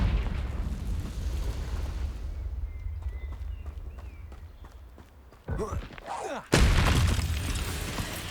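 A Confringo fire spell from the Hogwarts Legacy video game goes off as a sudden booming blast near the end, after quieter footsteps and ambient game sounds, with a shorter burst just before the main explosion.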